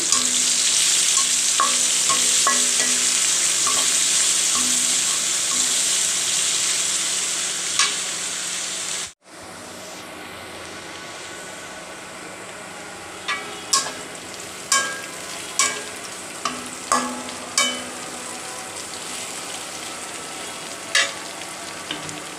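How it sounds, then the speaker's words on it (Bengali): Chopped ginger, garlic, onion and chili fry steadily in a pan with a loud, even sizzle, then after a brief cut the hiss softens and scattered stirring clicks and scrapes sound close by. "পেঁয়াজ কুচি দিয়ে দিচ্ছি আদা রসুন পেঁয়াজ মরিচ একসাথে বেঁধে নিচ্ছি"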